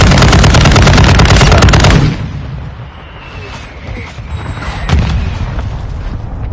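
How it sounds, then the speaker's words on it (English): Mortar strike explosions and gunfire in a video game battle: a loud, dense roar of blasts and rapid fire for two seconds, then quieter rumbling with a sharp burst near the end. "Our mortar strike is inbound."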